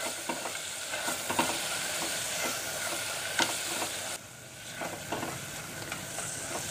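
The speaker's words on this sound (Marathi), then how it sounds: "आता आपल्याला त्यामध्ये हळद घालायची आहे, त्यातच मी धणे पावडर घालते आणि पुन्हा सगळं व्यवस्थित मिक्स करून घेऊया।" A sizzling spice paste with turmeric and coriander powder is stirred in a pan, giving a steady close frying hiss punctuated by repeated scraping strokes of a spoon.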